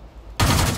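Tank exploding under gunfire in a tank video game: sudden loud burst of blasts and rattling fire after a quieter stretch, filling the rest of the moment.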